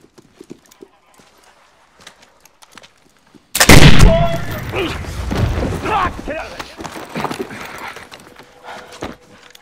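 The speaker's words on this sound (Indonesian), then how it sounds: "Tukar-menukar tembakan tidak terhindarkan." A sudden loud burst of gunfire breaks out after quiet, followed by a chaotic stretch of shots, hoofbeats and commotion, with voices mixed in.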